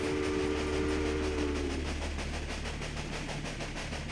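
A freight train in the strategy game Railway Empire runs out at Kelly Ranch on flat terrain; a whistle sounds at the start over a steady rumble and rhythmic clatter of wheels on rails.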